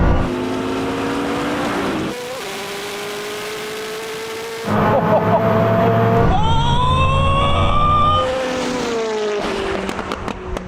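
A Koenigsegg Jesko and a Bugatti Chiron Super Sport drag race, loud engines roaring and climbing in pitch through repeated gear shifts, with a rising and falling pass toward the end.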